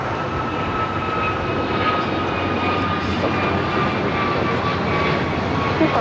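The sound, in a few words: airplane taking off from LAX runway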